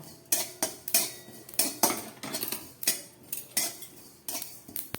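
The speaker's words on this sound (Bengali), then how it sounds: "এবার তার মধ্যে দিয়ে দিচ্ছি কিছুটা জিরে। এই জিরেটাকে আমি একটু হালকা করে ভেজে নেব।" Cumin seeds dry-roast in a wok as a metal spatula scrapes and taps the pan in quick, irregular strokes, close and fairly quiet, with no talking.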